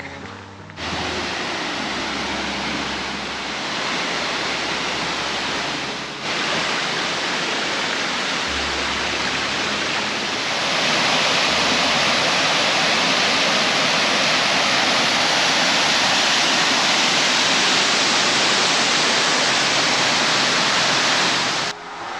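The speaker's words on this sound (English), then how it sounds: "As you can see, there's several waterfalls in the area." Wagner Falls, reached by a short half-mile trail, roars as a steady, loud rush of falling water, a continuous broadband hiss that grows slightly stronger partway through and holds without pause.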